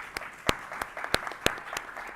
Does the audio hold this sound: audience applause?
yes